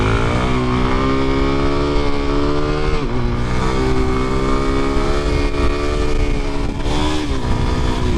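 A motorcycle engine roars loud and close throughout, holding steady high revs with slight pitch dips as the rider pulls a wheelie, continuous and unbroken.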